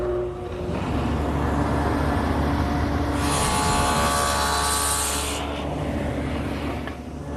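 Table saw cutting a tenon in cherry wood, a loud, steady motor drone with a harsher, brighter whine swelling midway as the blade bites, then easing back.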